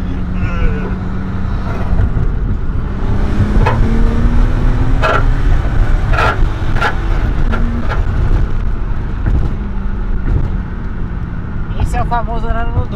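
A Nissan Skyline's engine drones loudly from inside the car, its pitch climbing through rising pulls under acceleration, while people talk over it now and then.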